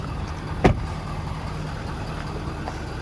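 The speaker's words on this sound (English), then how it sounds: "You can hear that diesel" A 2020 Ford F-350 Platinum Tremor with a 6.7 diesel engine runs at a steady low rumble throughout, with one brief sharp knock near the start.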